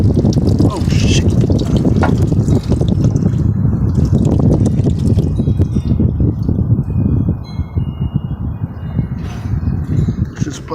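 Motor oil gushing and splashing from the drain during a windy outdoor oil change on a 1996 Chevy, a steady loud pouring wash with wind buffeting, while someone talks and exclaims over it.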